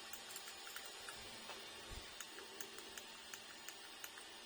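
A printer runs steadily on its own, its quiet, even mechanical drone marked by faint, regular ticking clicks throughout.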